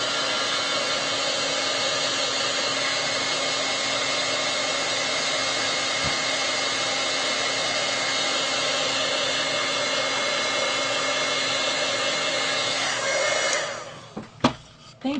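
A heat tool blows over a craft project in a loud, steady, close-up whooshing roar that holds for about thirteen seconds before cutting off, followed by a few handling clicks and no voices.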